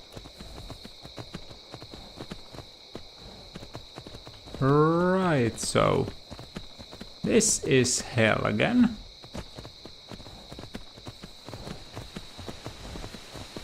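Horse hooves clip-clop at a steady walking rhythm in Skyrim, continuous and moderately close, with someone talking over them in two brief stretches.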